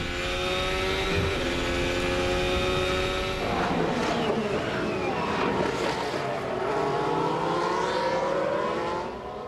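A Formula 1 car powers out of the fast turn 10 at the 2018 US Grand Prix, its loud, high engine whine climbing through the revs. A second surge of rising engine tones follows midway, all against steady wind-like noise.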